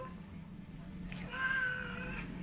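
A single drawn-out cat meow rises up clearly over a low background hum, fairly close and moderately loud.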